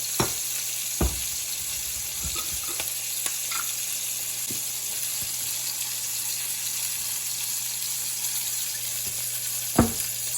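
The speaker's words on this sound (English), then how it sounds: "now we're going to add the cream" Cream poured into a hot pan for blackened chicken Alfredo, giving a continuous soft sizzle with a few sharp clinks and stirring knocks scattered through.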